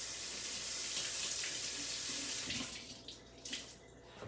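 A kitchen or bathroom tap runs steadily to wet a cleaning cloth, close and loud, a continuous splashing hiss that eases off near the end as the flow is cut back.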